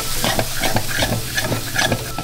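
Kashmiri masala, chilli powder, turmeric and garam masala sautéing in a pan for an egg curry, a close sizzle with rhythmic scraping strokes of a spatula stirring the spices.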